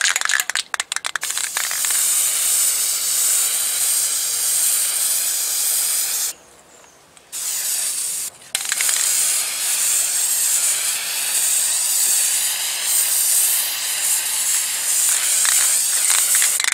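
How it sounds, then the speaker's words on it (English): Guide coat is sprayed from a can onto car bodywork during ding and dent repair, giving a loud, continuous hiss that stops briefly twice before resuming. "let's spray this guide coat on first"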